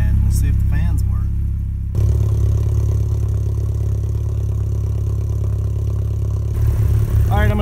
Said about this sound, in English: I'm just going to let it sit here and idle, and we'll see if the fans work.